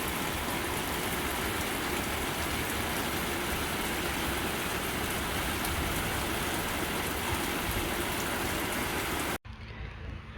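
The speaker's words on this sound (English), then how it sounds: "We're finally getting rain." Steady rain pours down in a constant, hissing wash that fills the clip, cutting off abruptly near the end.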